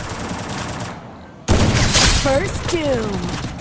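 Gunfire in the mobile battle game Free Fire Max, a loud close burst of rapid shots following a brief quiet gap, with sliding electronic game tones overlapping the shooting.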